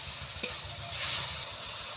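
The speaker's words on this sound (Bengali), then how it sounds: "টমাটোমের মধ্যে নুন দিয়ে দিচ্ছি হলুদ গুঁড়ো টমাটোমটাকে একটু ভালো করে কষে নেব" Tomatoes with salt and turmeric being sautéed in a pan for a vegetarian cauliflower and potato dish, a close, steady sizzle with a single sharp clink of a utensil against the pan early on.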